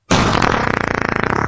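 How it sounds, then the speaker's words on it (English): A loud, wet fart sound effect bursts in abruptly and sputters on with a rapid, fluttering rattle that grows choppier toward the end, heard alone without any talk. "And also, fart jokes."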